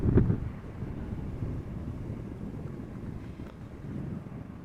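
Steady outdoor wind buffeting the microphone at Amsterdam airport during plane spotting, a continuous low rumbling whoosh with slight gusts and no other distinct sounds.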